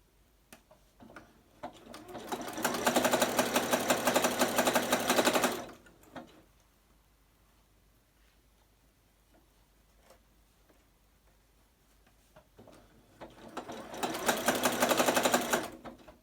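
A sewing machine stitches a seam on a McCall's 7358 garment in two loud, close bursts of rapid stitching. Quiet handling sounds and faint ticks fill the long pause between the bursts.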